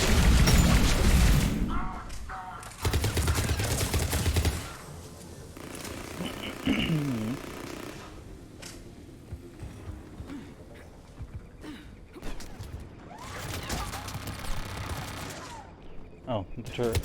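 Turret gunfire in the video game Mass Effect 3 comes in several loud rapid bursts with booming hits between them. Quieter stretches of game sound fill the gaps, and voices talk over parts of it.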